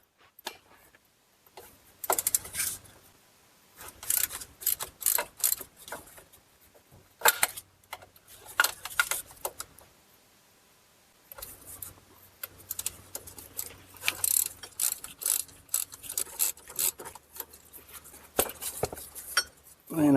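Ratchet removing 10 mm bolts from a transfer case support bracket on a Ford Escape/Edge with a 6F35 transmission: quiet, rapid clicking comes in repeated bursts with short pauses, close by.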